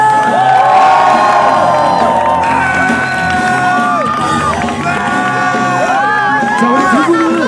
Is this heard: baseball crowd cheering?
yes